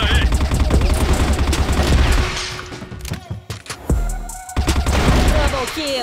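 Gunfire rattles nonstop in the game CrossFire, then a grenade goes off with a heavy boom, the shooting starting again right after, all loud and close with voices talking underneath.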